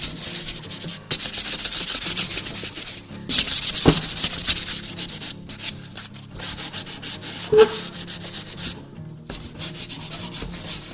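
Steady scratchy sanding of wood coated in chalk paint, a continuous rough rubbing with brief pauses and a few sharper scrapes, fairly close.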